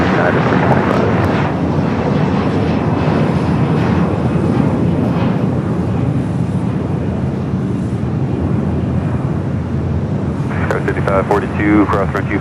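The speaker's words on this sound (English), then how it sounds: "the Dreamliner coming up from Melbourne, Australia. 8-year-old 787-9 Dreamliner" Boeing 787-9 Dreamliner airliner, eight years old and in from Melbourne, rumbles steadily at LAX as a loud, continuous engine roar with wind buffeting, with a few brief bursts of radio chatter near the end.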